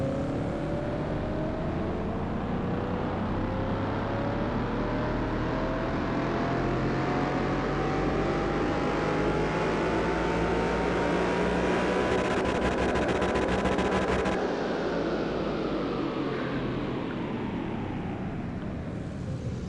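A car engine in the video game Car Mechanic Simulator, a continuous drone rising steadily in pitch as if accelerating, then dropping off near the end, with a constant background roar throughout.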